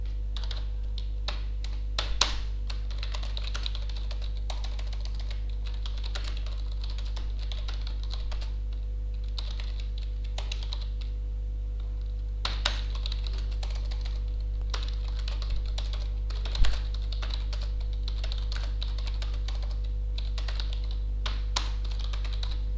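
Computer keyboard typing during animation work on a bouncing ball, a steady patter of light keystrokes with occasional louder taps, close and continuous over a constant low electrical hum, no talking.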